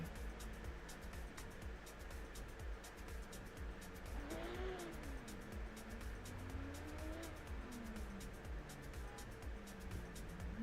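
Drift cars compete in a BMW versus S Chassis battle at a DCGP event, with faint, distant engine revs rising and falling under a steady crowd-and-track wash and light tire noise, while a commentator speaks.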